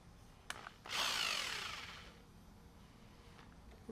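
Power drill driving a screw into a bathroom door pull, a brief faint whir that peaks and winds down over about a second, with light clicks of handling before and after.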